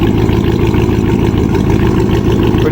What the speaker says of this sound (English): Pretty massive engine, judging by the sound of from the exhaust pipe.